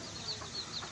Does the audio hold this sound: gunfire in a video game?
no